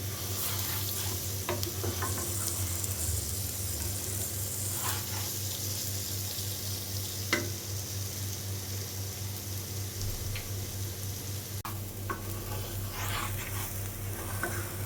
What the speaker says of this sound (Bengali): চালগুলো একটু ভালো করে একটু ভেজে নিই।